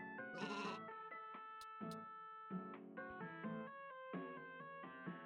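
Cartoonish goat bleats from a farm-themed video game, several short tonal cries in quick succession with clicky sound effects and faint, clean electronic tones, no talking.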